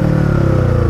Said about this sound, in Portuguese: Deixa eu desligar a moto aqui.